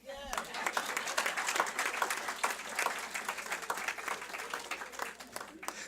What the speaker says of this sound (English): Clap them again.